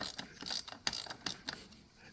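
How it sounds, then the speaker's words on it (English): Small metal nuts being unscrewed on a 25-year-old Stihl 017 chainsaw, heard as several sharp ratchet clicks and short metallic turns in irregular bursts, close and fairly quiet with no talking. "everybody likes to watch nuts get unscrewed"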